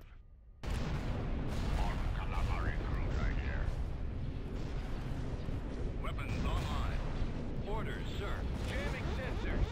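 Space battle weapons fire in Empire at War, a dense, continuous barrage of blasts and booming impacts that kicks in abruptly and runs throughout, with voices speaking over it.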